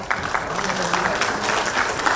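Audience applause fills the room at a book launch event, a steady wash of clapping from the crowd, with voices carrying over it throughout.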